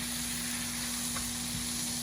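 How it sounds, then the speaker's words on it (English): Steak sizzles in butter in a pan, a close, steady bright hiss and crackle that holds evenly throughout with no talk. "So you get that nice little sizzle."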